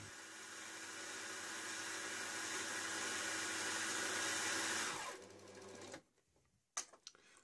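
A sewing machine sewing ripstop nylon runs steadily with a continuous whirring hum, then slows and stops, followed by a few faint clicks and taps.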